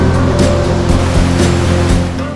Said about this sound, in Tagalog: napakagandang katubigan dito sa Bumudok Falls